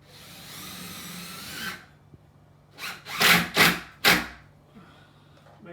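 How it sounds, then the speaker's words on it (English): A power drill drives screws into a kitchen cabinet, with a rasping buzz at first, then a pause and a burst of three or four short, loud whirring pulses close by. "and then screw it up. Plenty of screws in it"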